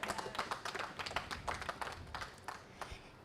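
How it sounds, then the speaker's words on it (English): An audience applauds a speaker at a startup book launch in Abuja, a steady patter of many hands clapping at moderate distance, rising and falling slightly over a few seconds with no talk. "Clap for him, please."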